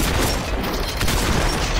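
Dense, continuous game gunfire from a VR shooter fills the whole stretch, loud and close, with no clear gaps between shots.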